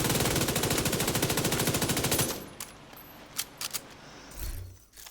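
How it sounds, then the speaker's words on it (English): Rapid automatic rifle fire from a weapon in The Division 2, a fast dense burst of shots for about two seconds that cuts off, followed by faint scattered clicks and rattles. "the first half of the mag will fire faster and the second half will fire slower"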